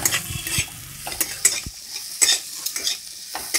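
Spinach samosa filling with turmeric and chopped cashews frying in a pan, with intermittent scraping stirs over a soft sizzle, close and clear, with no talking.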